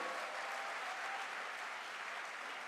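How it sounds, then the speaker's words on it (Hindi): Audience applause at a direct selling promotion event, a dense steady wash of clapping from a crowd that holds at an even level throughout with no voices on top. "तो जोरदार तालियां एक बार बजाइए।"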